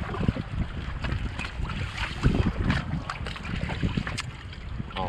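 An anchored boat rocks and hammers against choppy swell, with irregular thumps and slaps over a steady rumble of wind and waves.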